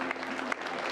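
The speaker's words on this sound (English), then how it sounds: "You're going to clap for everyone because this is Portland." Audience applause at an improv comedy shootout in Portland, a brief dense patter of many hands clapping together to vote for a favorite film, with a faint voice underneath.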